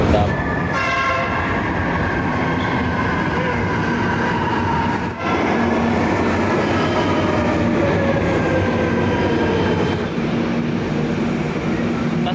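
An MRT commuter train in the Philippines rumbles steadily close by, with a constant mechanical hum and faint whining tones riding over the noise.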